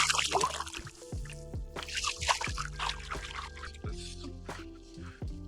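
A redfish being released from a boat into the water, heard as close splashes and drips of water in irregular bursts over a faint steady hum.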